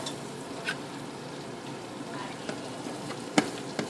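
A small piece of butter melts in a pan for oyster stew, giving a soft, steady sizzle close by, broken by a few faint clicks and a brief clatter.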